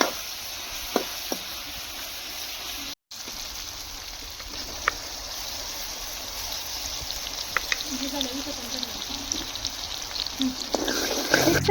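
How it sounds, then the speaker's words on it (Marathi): Onion sizzles in hot oil for pav bhaji in a home kitchen, a steady soft crackle running throughout with a brief cutout near the start and a few small clinks, quiet and close. "आम्ही तेलामध्ये मस्त कांदा टाकलाय परतवण्यासाठी."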